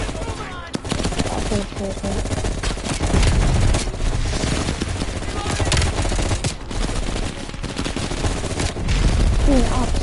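Dense automatic M16 rifle fire in the Call of Duty: Black Ops Cold War campaign, rapid loud bursts packed together for the whole stretch alongside other game sounds, with a brief spoken word.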